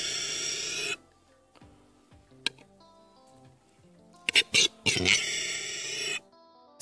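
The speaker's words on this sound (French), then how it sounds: "Les mâles peuvent faire sensation avec leur bruyant cri d'accouplement" A male grouse's harsh, squealing mating call resembling a pig's squeal, bursting out loudly at the start and again near the end with short clicks in between.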